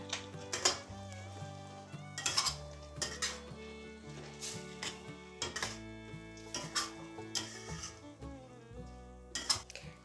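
Metal utensils clatter and scrape against a pan while squid in Korean-style sauce sizzles quietly underneath, stirred in irregular bursts over soft background music.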